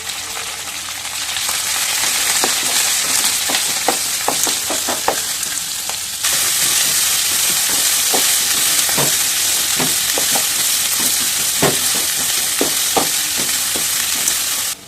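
Curry leaves, green chillies and onion pieces fry in a hot pan for lemon pulihora, a loud continuous sizzle broken by repeated scraping stirs, growing more intense about halfway through.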